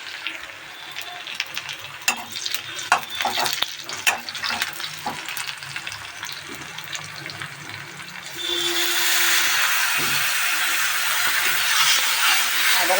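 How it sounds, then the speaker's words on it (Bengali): Ginger garlic paste hits hot oil in a pan with a sudden surge of loud, dense sizzling. It follows a stretch of quieter frying crackle and scattered clinks, then holds steady and close to the end. "এবার আমি আদা রসুনের পেস্টটা দিয়ে দেব।"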